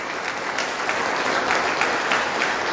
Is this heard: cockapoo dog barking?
no